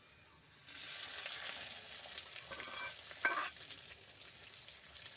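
Hot tempering oil is poured into cucumber chutney and stirred in, giving a soft, steady sizzle with a brief louder crackle partway through. The sound is quiet and close, with no talking.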